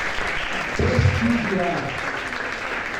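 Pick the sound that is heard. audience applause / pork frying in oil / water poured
audience applause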